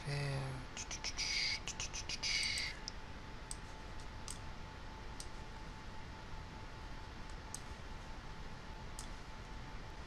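Quick bursts of keyboard clicks as letters are typed into a Windows search bar, a short flurry early on followed by sparse isolated taps over faint hiss.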